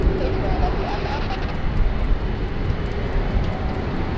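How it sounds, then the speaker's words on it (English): Fiji Airways Airbus A330-300, the fleet's only one, taxiing out on taxiway Alpha at Sydney Airport, a loud, steady broadband engine rumble and roar held at close range for the whole stretch. "here she comes, the sole A330-300 of the Fiji Airways fleet, taxiing out on taxiway Alpha"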